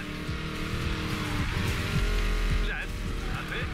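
A Ford Mustang is driven in the racing game Need for Speed Payback: a steady engine drone with brief tire squeals and a mid-clip gear shift, while someone talks over the car sounds throughout.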